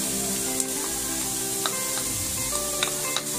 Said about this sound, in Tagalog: Mga 2 to 3 tablespoons ng cooking oil. Sibuyas. Lagay na natin lahat.